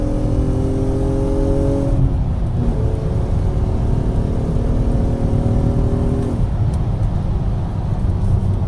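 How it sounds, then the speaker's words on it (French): A Nissan Skyline R32 engine rises steadily in pitch as the four-wheel-drive car accelerates, drops briefly at a gear change, then climbs again, loud and continuous with no talking. "Ça pousse quand tu montes dans les tours."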